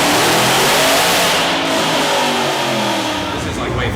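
A twin-turbo Ferrari F12 accelerating hard, its engine a loud, sustained roar heard from close by with a rising pitch. People talk over it.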